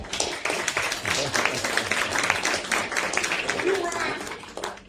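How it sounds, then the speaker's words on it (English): Audience at a comic book launch for Sunday's Slave applauds steadily for several seconds, a dense wash of clapping close by with a voice or two underneath. "let's give a round of applause for that one"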